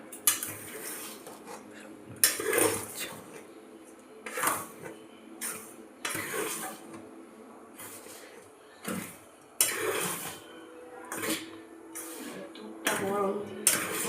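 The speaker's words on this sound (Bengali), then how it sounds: "এগুলোকে সব একসাথে মিশিয়ে নিচ্ছি আমি এবার" Malpua batter being mixed by hand in a bowl: a spoon clinks and scrapes against the bowl in irregular bursts of strokes, close and fairly loud, with quieter pauses between them.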